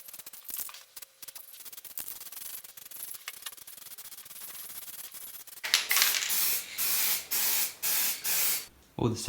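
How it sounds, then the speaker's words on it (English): Carb cleaner sprayed onto a Ford Transit 2.5 diesel inlet manifold: faint scrubbing and hissing at first, then a run of loud, close aerosol bursts in short, evenly spaced pulses. "I'm just using a bit of carb cleaner"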